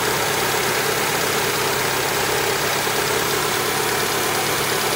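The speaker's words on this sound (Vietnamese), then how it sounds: "Đây các bạn nhìn thấy máy không? Máy không có một tiếng rung nào luôn." A 1995 Japanese-import Mazda 323 idles steadily and smoothly, a constant close-up engine hum with no pauses or revving over the whole stretch.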